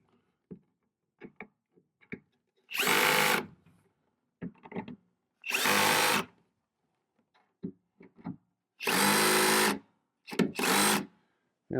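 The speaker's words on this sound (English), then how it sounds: "And I'll grab my screwdriver." A power screwdriver tightens screws into an arcade cabinet during artwork installation, running in four separate close, loud whirring bursts of a second or so each, with small clicks and handling noises between them.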